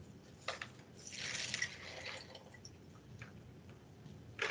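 Murky water is poured into a homemade gravel and sand filter, making a faint, short trickling splash that rises for about a second and then fades into soft drips, quiet and close.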